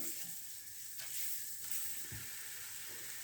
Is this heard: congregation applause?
no